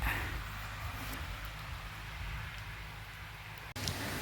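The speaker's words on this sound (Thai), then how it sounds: "ฝนตกแดดออกเดี๋ยวนี้" Rain falling during a sun shower outdoors, a faint steady patter over a low rumbling background, with a brief bump near the end.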